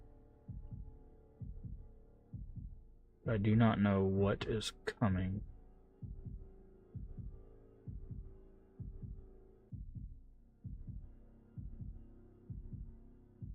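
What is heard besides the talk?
heartbeat sound in video game Shadow Corridor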